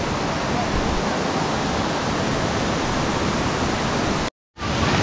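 A loud, continuous roar of falling water at Kuang Si waterfall in Laos, dense and steady, with a brief cut to silence near the end.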